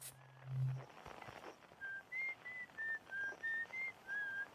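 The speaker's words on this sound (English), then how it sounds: "Someone's on the other side, whistling." A person whistles a short tune, a string of clear, evenly spaced notes after a brief low tone, set against quiet background noise.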